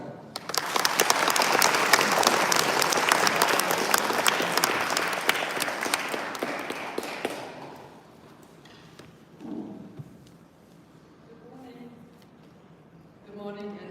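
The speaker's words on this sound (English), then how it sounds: "A round of applause." Audience applause at a formal gathering, a dense burst of clapping that lasts several seconds and then dies away into a quiet room with a few murmured voices.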